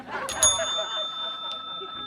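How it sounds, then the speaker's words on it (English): A cash register bell gives a couple of bright dings early on and a fainter ring later, ringing out over low background murmur. "that's just the cash register"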